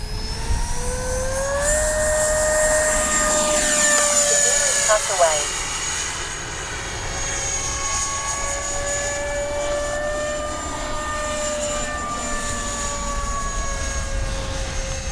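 Kavan Skyfox L-39 80mm electric ducted-fan RC jet flying past, its loud whine sweeping up and down in pitch as it passes nearby, with someone talking over part of it.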